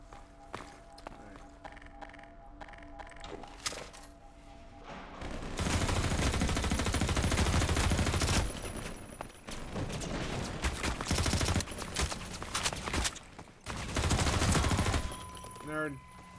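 Gunfire in the Half-Life 2 video game erupts in loud, dense bursts of rapid shots after a quieter stretch, mixed with game noise and a voice speaking.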